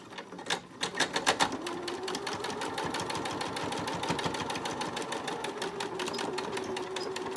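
A sewing machine stitches a cloth face mask, starting with a few slow separate thumps before settling into a fast, even, rapid stitching rhythm, close and fairly quiet with no talk.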